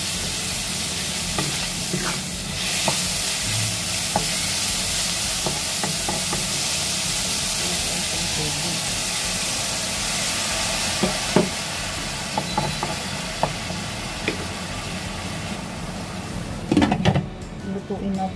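Bitter gourd (ampalaya) and corned beef cook in a pan with a steady, close sizzle and occasional stirring scrapes and clinks throughout, ending in a brief clatter of utensils.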